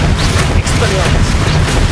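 A spell cast in the video game Hogwarts Legacy lands as a loud, dense boom amid a continuous roar of combat effects, with a brief dip midway.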